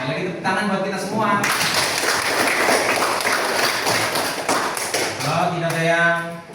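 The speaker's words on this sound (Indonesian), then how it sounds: "Sekali lagi tepuk tangan buat kita semua." A classroom group breaks into steady applause lasting several seconds, dense and close, with a voice speaking just before and after the clapping.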